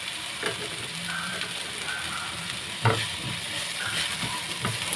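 Chopped tomatoes hitting hot oil with onion in a pan for pork tortang giniling give a steady close sizzle and crackle, with a few stirring scrapes and one louder clatter midway.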